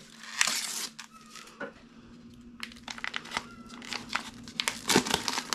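Plastic packaging from a 12-ounce pack of breakfast sausage crinkles and crackles in close, irregular bursts as it is squeezed and emptied into a bowl.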